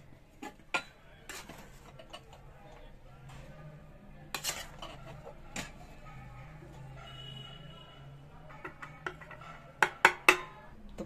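Chicken pulao rice is served onto plates with sporadic clinks and taps of dishes and a spoon, quiet between strikes, and a quick cluster of louder clatters near the end.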